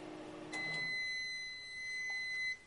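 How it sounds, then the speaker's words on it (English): A microwave oven hums quietly, then a steady high electronic beep tone sounds for about two seconds before cutting off. "Now we zap it for about 43 seconds in the microwave."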